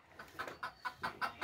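A brooding hen sitting on ten eggs clucks softly in a regular series of about six low, evenly spaced calls, close but quiet.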